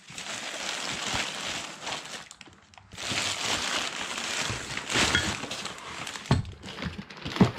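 Crinkling and rustling of a plastic bag holding car motor mounts being handled up close, in irregular bursts with a brief pause, ending in a few sharper crackles.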